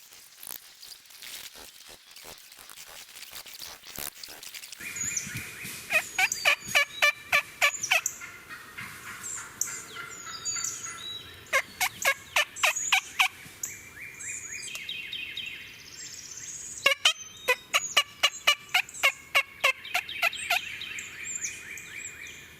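A wild turkey gobbler in South Carolina woods sounds off in repeated loud, rattling gobbles, several bursts in quick series, close and clear over faint background birdsong.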